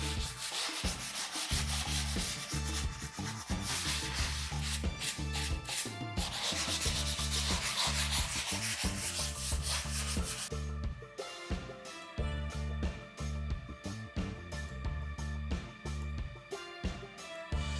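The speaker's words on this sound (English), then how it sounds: "So I'll just sandpaper it a little bit because I have some imperfection" Sandpaper rubbing over dried putty on a bathroom wall before microcement goes on, close scratchy back-and-forth strokes in a quick steady rhythm, louder and denser at first, then lighter short swipes, with no talking.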